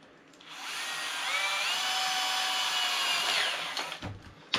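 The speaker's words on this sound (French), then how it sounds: "quand tu vas percer ce puits-là, tu vas tomber sur la vis qui tient la biellette ici" A power drill bores a hole into a car suspension part near the screw holding a link rod, a steady rising whine lasting about three seconds, then spinning down, close and loud, with no voices.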